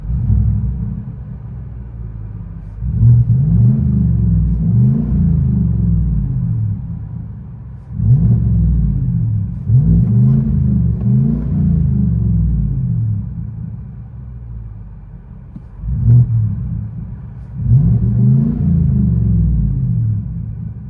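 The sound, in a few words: Chevy Silverado 5.3L V8 revving with Black Widow exhaust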